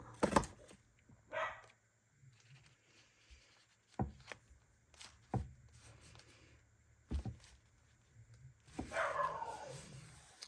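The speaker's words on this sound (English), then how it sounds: "Oh, that's my dog, Han Solo, and I don't know what's gotten in" A pet dog named Han Solo barks in a few short, scattered outbursts, faint and some distance off, with occasional quieter yips between.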